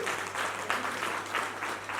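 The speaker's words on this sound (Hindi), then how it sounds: "ताली बजाइए दिया के लिए" An audience at a motivational talk claps for a young participant, a short, fairly soft round of applause with rhythmic pulses.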